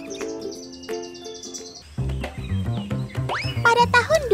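A kelede, a mimicking songbird kept for bird-song contests, sings a varied song of repeated tonal whistles, then lower bubbly notes and rising chirps, close and clear with no talk.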